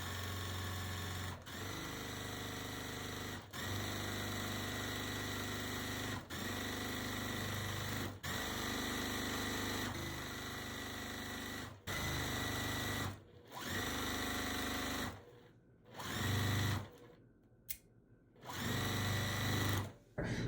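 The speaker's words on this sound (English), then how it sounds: "the bottom pieces are sewn together" A sewing machine joins quilt blocks together, running in long steady stretches of stitching with brief pauses between seams, close and fairly loud.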